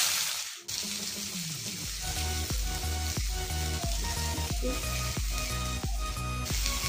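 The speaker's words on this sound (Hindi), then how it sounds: "अब मैं इसमें ये प्याज और हरी मिर्च भी डाल दे रही हूँ।" Cumin seeds, chopped onion and green chili sizzling in hot oil in a pan, a loud steady crackling fry with repeated soft thuds and scrapes of stirring, close up.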